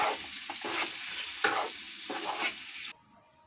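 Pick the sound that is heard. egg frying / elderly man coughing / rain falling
egg frying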